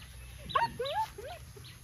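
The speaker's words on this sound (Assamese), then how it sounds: "3 মাহৰ গাৰ্ড ডগৰ পাপি দেখিছে" A three-month-old guard dog puppy gives a few brief, faint high whimpers and yelps in under a second, over a low steady hum.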